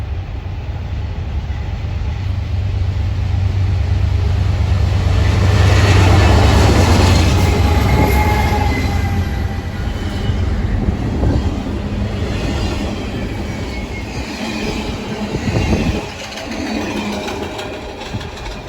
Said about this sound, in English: C40-8W leads a CN stack train.